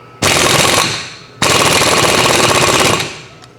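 An air impact wrench hammers at a wheel nut on a 1979 VW Super Beetle in two loud, sustained bursts, each rattling steadily for about a second or more before fading, with a short pause between them.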